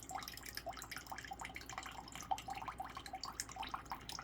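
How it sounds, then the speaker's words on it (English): Soy sauce, about a quarter cup, pours and drips while a sticky Asian chicken is made in a boat galley, giving a steady run of small liquid splashes and drips at close range with no talk. "It's just the way it's pouring out."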